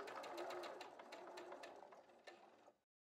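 A sewing machine stitches bias tape around a V neckline in a fast, steady mechanical whir of rapid needle strokes that runs for almost three seconds and then stops abruptly.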